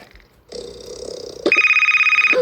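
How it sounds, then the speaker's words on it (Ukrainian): An alarm clock goes off in a quiet bedroom, first with a buzzing hum and then a loud, steady electronic ringing pulse that keeps going. "Це будильник."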